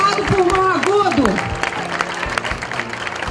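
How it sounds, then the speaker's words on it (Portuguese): Crowd applauding at the inauguration of a municipal 24-hour emergency care unit and family clinics, steady clapping under a speaker's amplified voice, then continuing alone. "O Acaris, eu gostaria que você aplaudisse sim."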